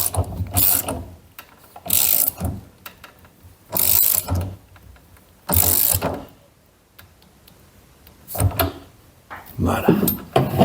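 A hand ratchet wrench clicks in several loud, rapid bursts while a bolt is tightened during work on a custom electric power steering setup for a Datsun 260Z, with quiet pauses between the strokes.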